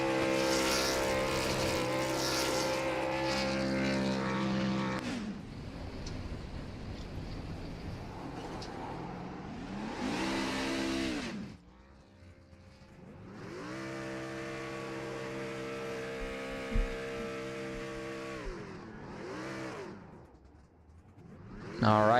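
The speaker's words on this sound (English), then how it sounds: "We'll see if we get some burnouts here." A NOMA Truck Series race truck does burnouts at Nashville Superspeedway in a racing game, its engine roaring loud and close in long sustained revving passes with pitch sweeps and brief drops between bursts.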